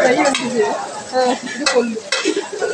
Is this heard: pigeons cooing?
no